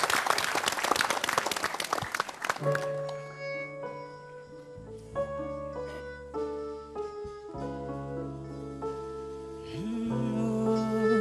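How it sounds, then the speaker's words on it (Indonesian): A studio audience on an East Java talk show breaks into brisk applause for a couple of seconds, then the clapping stops and sustained musical notes take over. "Kita beri tepuk tangannya meriah."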